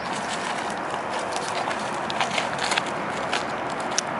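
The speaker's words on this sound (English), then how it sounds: "chestnut roan quarter horse mare, two high, white in the rear, a big blaze, neck reins around, backs up" A chestnut roan quarter horse mare backs up, her hooves giving soft, irregular close steps over steady outdoor background noise.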